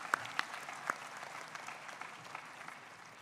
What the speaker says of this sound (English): Let's have a round of applause for all of our dignitaries once again.